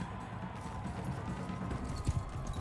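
Horse hooves clip-clop steadily in the Mount and Blade II: Bannerlord game, a continuous close trotting patter under a dense background of game ambience.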